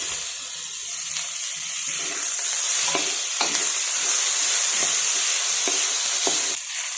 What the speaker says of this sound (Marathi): कांदा आणि टोमॅटो चांगला मऊ होईपर्यंत परतून घेतलेला आहे